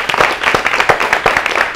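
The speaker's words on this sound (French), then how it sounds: "on va applaudissement spécial pour l'équipe ça" Applause from a talk show audience honoring the team, a dense wash of many hands clapping at close range with irregular louder bursts, steady and fairly loud throughout.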